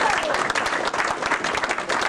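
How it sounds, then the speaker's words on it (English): Applause from the audience at an engineering society's annual dinner in 1993, honoring a guest's birthday, a dense steady patter of many hands clapping close by with no break across the whole stretch. "Another round of applause for a gentleman who today celebrates his birthday"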